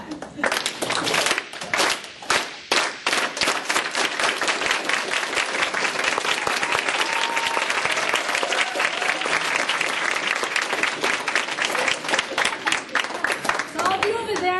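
A UCSB audience gives a classic Chicano clap, a steady swell of many hands applauding together that builds and stays loud and dense throughout, with a few voices mixed in.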